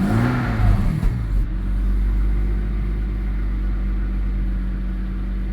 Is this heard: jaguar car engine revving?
yes